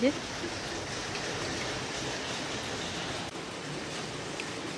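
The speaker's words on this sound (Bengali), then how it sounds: "এই দেখো বৃষ্টি, আমরা ঢুকে গেছি মাসির বাড়িতে, এখনও বৃষ্টি কমেনি।" Steady rain falls outside a house, a broad even hiss that holds at the same level throughout with no voices.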